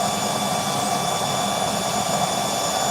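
Blacksmith's forge roaring steadily while heating steel for a bastard sword, a dense continuous whoosh of burner and blower that holds at an even level with no breaks.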